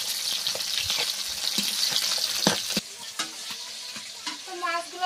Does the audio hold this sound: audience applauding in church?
no